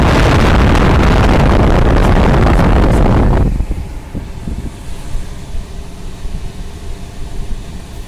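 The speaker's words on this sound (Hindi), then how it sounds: "आप इसका ब्लोअर का साउंड भी सुन सकते हैं।" A car's air conditioning blower roars as a loud, steady rush of air, then drops abruptly to a much quieter low hum partway through, with no voices.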